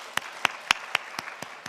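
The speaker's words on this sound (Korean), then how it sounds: "우리 주님께 영광의 박수 한번 올려드리겠습니다." A church congregation claps together in slow, steady rhythm, about seven distinct claps in under two seconds, moderately loud and without talking.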